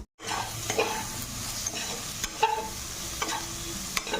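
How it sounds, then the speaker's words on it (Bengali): Onions with salt fry in a pan for chilli chicken, a constant close sizzle broken by a few sharp scraping stirs of a utensil against the pan at irregular intervals. "তারপরে আমাকে নুন দিয়ে একটু ভেজে ভেজে দেবো"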